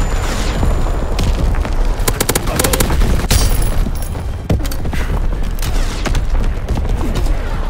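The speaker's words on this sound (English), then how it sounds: "Firing division artillery." Call of Duty: WW2 multiplayer match with an artillery strike: dense, continuous heavy gunfire and booming explosions crowd the whole stretch at high volume, while voices talk over the battle.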